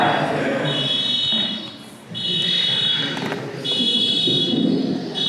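A car alarm going off outside during a church service, repeating high electronic tone bursts in regular cycles, loud and steady, partly under a voice talking.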